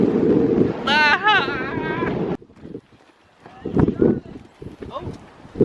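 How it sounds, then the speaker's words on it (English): On the Kent coast at Riverside Country Park, loud wind buffets the microphone in heavy rushing gusts, a voice exclaims over it, then the wind drops to fitful bursts with scattered speech. "It's so windy."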